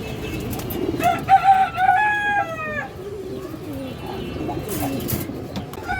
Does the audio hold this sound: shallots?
no